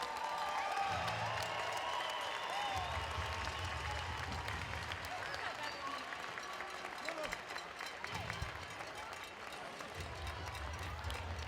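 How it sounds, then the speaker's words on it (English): A roller derby crowd claps and cheers at a season finals game, a sustained, moderately distant roar of applause with low rumbling passes from skaters and a voice talking over the arena. "Give her a round of applause, everybody."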